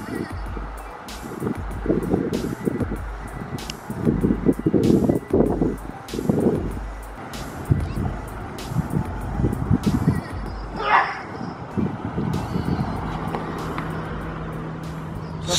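A junkyard-revived Acura TL drives down the road with a low engine rumble and uneven road noise that rises and falls. Voices murmur inside the car along with a few clatters.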